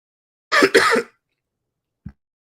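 A person on a live podcast gives a quick double cough, close and fairly loud, followed by silence and a small throat sound about a second later.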